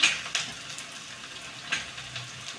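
Peanuts and red chillies frying in oil for kande pohe, a soft, faint sizzle with a few sharper crackles and pops.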